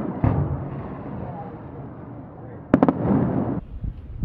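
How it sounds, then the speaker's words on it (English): Fireworks going off at night seen from the top level of a parking garage, heard as distant booms and a cluster of sharp crackling pops over a steady outdoor rumble. "they're having fireworks out here tonight"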